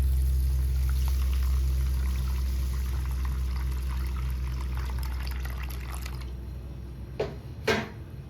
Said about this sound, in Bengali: চালটা ভিজিয়ে দিচ্ছি